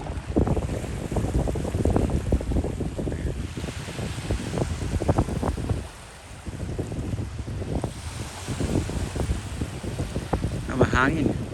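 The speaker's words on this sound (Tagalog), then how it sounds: "Mahangin." Strong wind gusts across a microphone at the Vallejo, California waterfront beside the bay, with a steady, loud rumble and buffeting that dips briefly midway, and a voice talking over it near the end.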